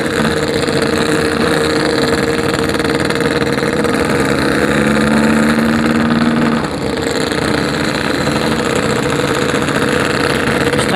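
Motorcycle engine running rich from a wet carburetor setting, a loud steady close-up drone with rough burbling at the low end, ridden after an anniversary club event.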